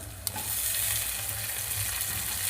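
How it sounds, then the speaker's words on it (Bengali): Onions added to a hot wok of frying garlic and ginger for chilli chicken: a sharp utensil clink, then a continuous crackling sizzle with faint stirring, close and even in level. "পেঁয়াজ দিয়ে দিলাম,"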